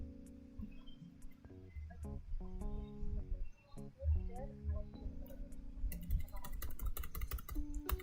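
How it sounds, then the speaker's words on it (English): Rapid computer keyboard typing clatters through a stretch of music, with the densest burst of key clicks near the end; no speech is heard. "You can probably hear me actually like spamming the keyboard."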